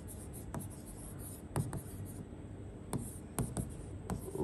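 A pen scratching across a writing surface in short strokes, with a few sharp taps and pauses between words; no one talks.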